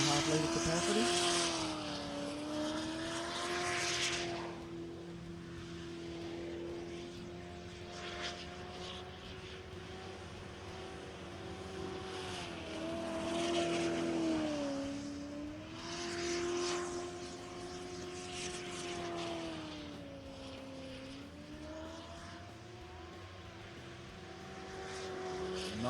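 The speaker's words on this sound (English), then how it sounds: "These are Toyota Lexus 1UZ engines, turbocharged of course. V8s of course." Turbocharged Toyota Lexus 1UZ V8 engine, roughly 3.5 litres, powering a jet sprint boat around an island course, a steady loud drone whose pitch rises and falls through bends over about half a minute.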